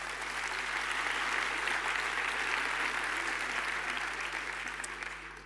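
Loud, continuous applause from a crowd at an anniversary business gala, dense and even for several seconds before tapering slightly at the end.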